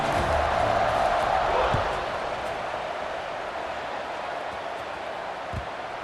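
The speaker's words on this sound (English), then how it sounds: "this crowd is buzzing after that last score" Stadium crowd noise in EA Sports College Football 26 after a score, a steady broad roar that swells for the first two seconds, then settles into a lower, even buzz with a faint thud near the end.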